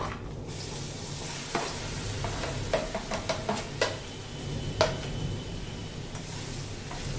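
Ground green chilli paste for lavangi mirchi thecha frying in a pan, with a soft steady sizzle and a cluster of spatula scrapes and taps in the middle, close and without talk.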